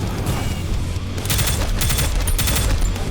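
Sustained automatic gunfire in the pixelated shooter Prodeus, rapid loud repeated shots in dense bursts with low booming thumps, continuous through the whole clip, no talking.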